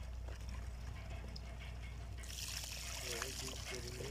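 Water streams from a newly drilled well in a neighbourhood, a steady faint rush and trickle that stays constant under nearby talking voices.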